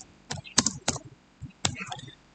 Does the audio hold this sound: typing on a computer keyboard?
yes